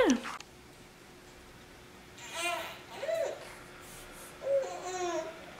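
A few high, wavering meows from a hungry kitten come in short bursts over quiet background noise, with a brief voice at the start.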